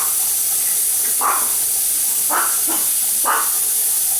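Steady loud hiss of escaping steam from a pressure canner at about 11 pounds pressure, with a few brief rattling puffs from its weight at irregular intervals, close by.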